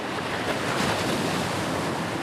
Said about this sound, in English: some rough waves